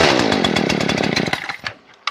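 Husqvarna 38cc two-stroke X-Torq 14-inch chainsaw with auto oiler running close and loud, a rapid buzzing engine rattle that sputters and dies away near the end before a brief final burst.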